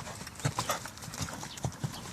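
Horse hooves clip-clopping on a hard surface, a few distinct near knocks in an uneven trotting rhythm, with faint background noise and no clear talk.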